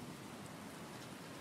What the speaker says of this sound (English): Nice and wet from the rain.